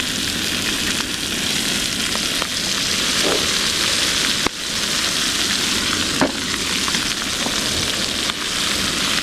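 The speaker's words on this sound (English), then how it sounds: "I'm getting a good sear on that. Add another little dab of oil in here." Grouse bacon searing in oil in a pan, cooked outdoors, giving a loud, steady, close sizzle and crackle that runs throughout, with a few faint clicks and taps mixed in.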